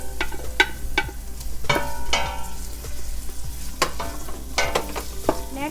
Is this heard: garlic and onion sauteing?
yes